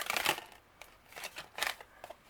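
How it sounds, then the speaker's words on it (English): A Keyword Oracle deck of oracle cards gets shuffled by hand in a few quiet, crisp bursts of riffling and sliding, separated by brief pauses. "These are harder for me to shuffle."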